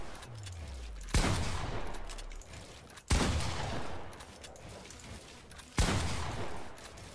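Three loud, sharp gunshot blasts in Fortnite, spaced a couple of seconds apart on a training map, each with a sudden crack and a long reverberant tail that fades before the next shot.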